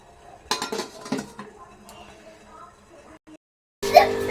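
Pots, lids and steel utensils clink and clatter as steamed dal puli dumplings are lifted out, with a short quiet gap and a louder metallic knock at the end, and nearby talking.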